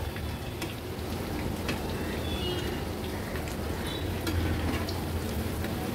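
Prawn pakodas fry in hot oil over a high flame, a dense crackling sizzle with scattered pops and spoon scrapes as they are turned, steady and close.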